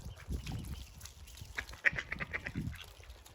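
A family of ducks being fed in Germany quacks in a quick, busy cluster of calls, fairly close, over soft background noise.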